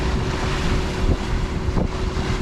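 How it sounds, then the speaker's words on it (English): Onshore wind buffeting a sailing boat off northern France, a loud continuous roar of gusts against the microphone over lapping water, with brief thumps, no talking. "a funky onshore wind is filled in, which wasn't really forecast"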